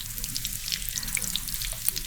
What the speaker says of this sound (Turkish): 2 dakika daha kızartın.